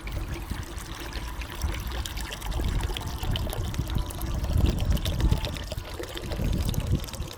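Water that sat for over a week pours steadily out of an enamelled water bottle, a continuous splashing trickle that swells and eases in waves, close by with no talk.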